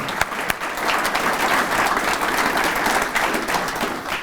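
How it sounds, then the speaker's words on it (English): An audience applauds steadily at a presentation, a dense sustained round of clapping with a couple of sharper claps at the start, loud and close, with no one talking. "Let's give another round of applause, please."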